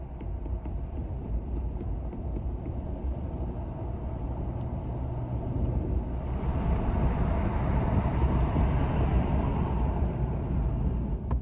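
A vehicle towing a Cape Horn 31T boat on its trailer drives along a road with a steady low rumble of engine and road noise that swells louder partway through as it picks up speed.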